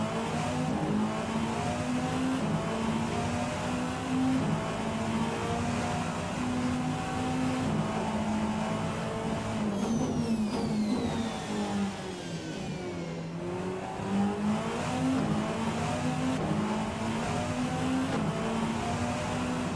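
Race car engine in the racing game Rennsport, a sustained loud revving drone whose pitch rises and falls through gear changes, with a brief sweeping whine midway; no voices.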